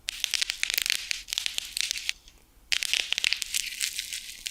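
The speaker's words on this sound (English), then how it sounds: "let's hear the bubble wrap on its own briefly" Dense crackling pops of bubble wrap being crushed for a fire sound effect, in rapid irregular bursts with a short pause midway, close and crisp.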